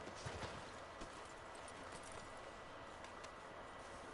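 Horse hooves clip-clop softly on a dirt street in the Western video game Red Dead Redemption 2, a few faint irregular steps over a quiet outdoor ambience.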